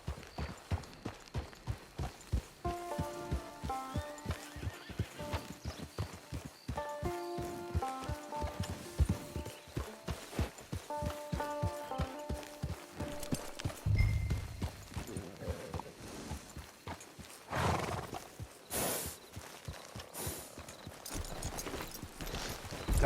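Horse hooves clip-clopping at a steady walking rhythm in the video game Red Dead Redemption 2, close and clear, with soft music playing underneath.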